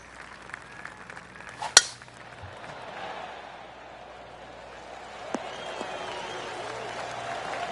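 Golf gallery in the video game PGA 2K23 at Detroit Golf Club giving a soft, scattered round of clapping after a shot, following a sharp click, moderate and fading in and out behind faint ambience.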